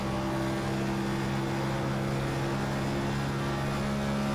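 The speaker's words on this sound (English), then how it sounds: "nope, she's downshifting" Onboard a race car at Michigan International Speedway, the engine drones loud and steady as the driver downshifts, its roar constant and dense throughout.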